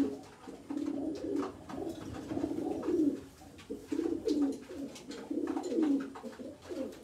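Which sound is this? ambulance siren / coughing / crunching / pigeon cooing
pigeon cooing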